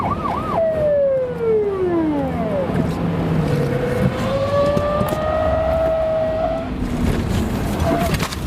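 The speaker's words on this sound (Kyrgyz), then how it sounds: "Сиренасын иштетип, кат үн чыгарып келаткан патрулдук унаа" A police patrol car siren wails in loud, continuous rising and falling sweeps as it chases a fleeing drunk driver's Toyota along Tynaliev Street, close and steady for the whole stretch with traffic rumble beneath.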